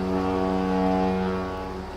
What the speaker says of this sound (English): The engines start, we sail on.